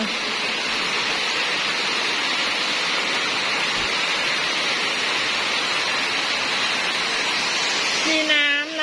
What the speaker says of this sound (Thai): เป็นน้ำตกอยู่ในถ้ำนะคะ